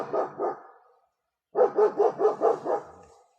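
A dog barking excitedly in a burst of two barks, a pause, then six rapid barks, close and loud with nothing else heard.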